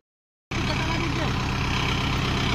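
A Kubota 5502 tractor engine idles, cutting in abruptly after a half-second of silence and then droning steadily and loudly to the end.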